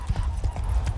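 Rhythmic hoofbeats of a galloping horse in the video game The Witcher 3, several quick thuds in steady succession, close and fairly loud, with no talking.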